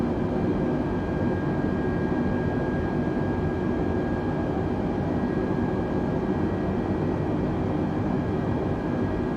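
A steady, even drone of a small airplane in flight on an approach, a constant engine and airflow hum with no talk over it.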